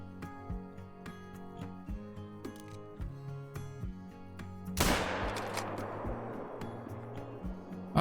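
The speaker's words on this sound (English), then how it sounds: "We took the shot at about 150 yards right through that brush there" A rifle shot at a coyote in the hunting game Call of the Wild: a single loud, sharp crack with a long, fading echo follows steady ambient outdoor sounds and tonal background music.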